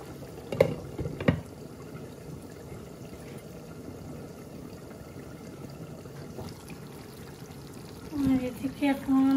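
Gravy is poured into a fish curry as a steady, soft liquid pour over low kitchen noise, and a voice and some clatter come in near the end.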